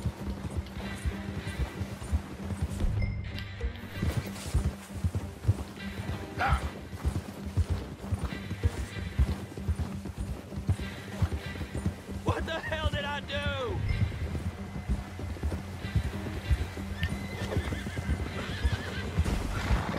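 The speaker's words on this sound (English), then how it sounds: "Come on, horsey." Horse galloping with rhythmic hoofbeats and repeated whinnies in the video game Red Dead Redemption 2, during a lasso chase on horseback, with a person talking over the game sound much of the time.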